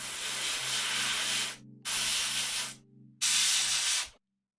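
An airbrush lays red paint onto an armor corset in three bursts of hissing spray, each cut off by a short silence, close and steady with no voices.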